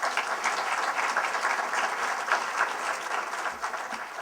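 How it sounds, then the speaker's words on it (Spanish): Dense, steady applause from an audience at a constitutional reform debate in Santo Domingo, filling the whole stretch at an even level before easing slightly near the end. "Un aplauso, por favor."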